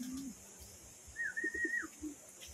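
A blue bar racing pigeon back home from a derby race in Daraga, Albay, gives a few quiet, low coos in a short pulsing run, with faint background noise and a brief thin whistle.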